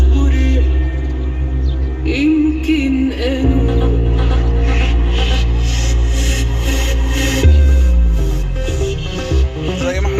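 Music plays loudly through a car's Android head-unit screen and speakers, with strong, sustained bass and full-range instruments throughout. The sound is steady and close, with a single word spoken briefly over it.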